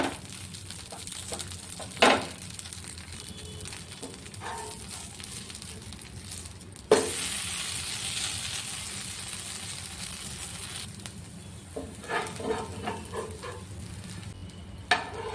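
Pesarattu, a mung bean dosa, roasting on a hot pan, a steady sizzle with occasional sharp scrapes and a louder burst of frying partway through, no talking.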